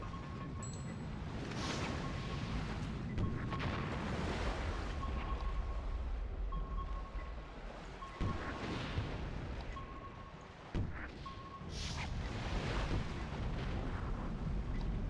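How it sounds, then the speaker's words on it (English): Repeated booming blasts of missiles exploding in the video game Conker's Bad Fur Day, several heavy thuds with rumbling tails over a dense, noisy battle background, plus a recurring steady electronic tone. "It's nice that I can blow up the missiles with my missile launcher"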